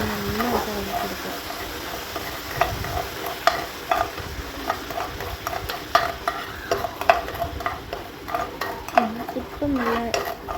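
A spoon stirs bread pudding mixture in a pan with soft scraping and light clinks against the metal over a gentle sizzle, close and moderately quiet, with a voice speaking at times.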